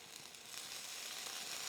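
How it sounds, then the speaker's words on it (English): Rehydrated soy curls, soaked in vegetable stock, sizzle steadily in hot oil for fajitas, a dense continuous hiss that swells slightly after the first moment and holds loud and close throughout. "Oh, you hear that sizzle? That's what you want to hear."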